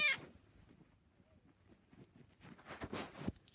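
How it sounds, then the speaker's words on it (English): A short, faint meow near the start, then quiet rustling and a louder burst of noise near the end; no one speaks. "She's been meowing for ages."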